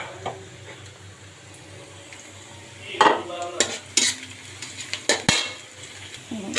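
Chopped onion fries on a stove for noodles, with a low sizzle under repeated scraping and clinking of a utensil against the pan, the clatter growing busier in the second half.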